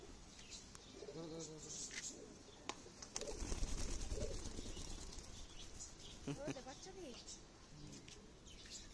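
Pigeons in a pigeon loft: wing flaps and soft cooing close by, with a louder flurry of movement in the middle. People talk quietly throughout.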